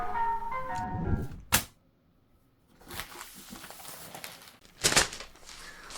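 A British ice cream van chime plays a short tinkling melody at the start, then cuts off, followed by a sharp knock and faint street background with a couple of brief rustling bursts.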